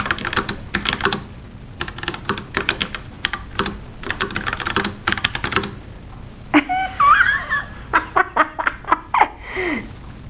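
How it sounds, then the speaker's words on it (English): Fingers type on a Bluetooth keyboard in quick bursts of crisp, close key clicks separated by short pauses, followed by softer giggling and a few scattered taps. "This is a Bluetooth keyboard."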